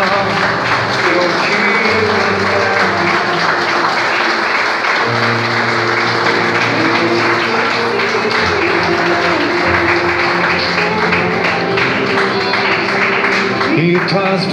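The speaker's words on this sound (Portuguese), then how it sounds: "E quem orou com fé, aplauda ao Senhor Jesus" A church congregation applauds Jesus during a worship service, with dense, sustained clapping from many hands lasting throughout, while held musical tones ring underneath.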